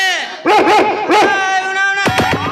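A dog at a village fair barks and yelps loudly and close in a quick run of sharp barks, with a person's voice shouting over it near the end.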